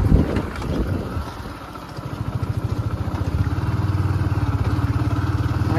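A motorcycle ridden off-road on a rural track, its engine throbbing in a fast steady pulse that builds after a brief lull, with wind buffeting the microphone.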